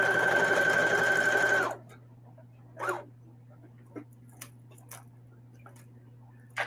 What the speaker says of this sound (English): I'm going to sew 1/4 of an inch